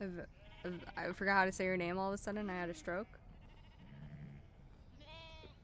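Sheep bleat outside, one wavering bleat ringing out near the end, while people talk loudly in the foreground.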